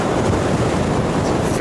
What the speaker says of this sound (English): The waves are huge.